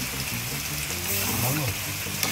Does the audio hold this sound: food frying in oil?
yes